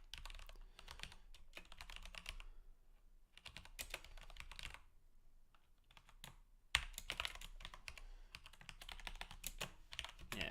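Rapid typing on a computer keyboard while writing tests for a web app, with dense bursts of key clatter broken by two short pauses, the keystrokes close and steady throughout.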